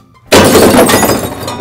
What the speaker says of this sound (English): Ooh, a glass bottle.